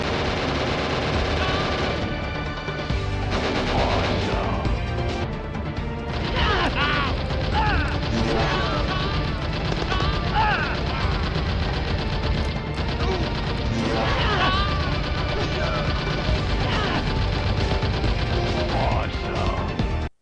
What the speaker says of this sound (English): Gun and vehicle sounds, while attempting realism, are also very digitized sounding